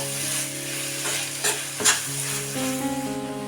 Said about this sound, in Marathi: थोडंसं हे सुकेपर्यंत जरा मी परतून घेते